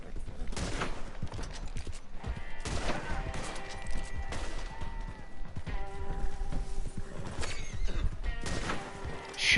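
Horse whinnies and hooves clatter amid bursts of gunfire in the Red Dead Online video game, with someone talking intermittently over the busy, clashing mix.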